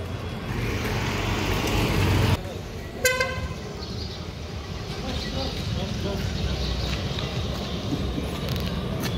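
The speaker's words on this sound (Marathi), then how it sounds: "चला मित्रांनो, आपला टेम्पो चाललाय." A loaded tempo truck drives along a road near Lonavala, with a steady engine and traffic rumble, one short horn toot near the start, and people talking over the noise.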